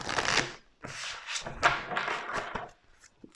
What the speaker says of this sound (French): On coupe le jeu en deux, on mélange.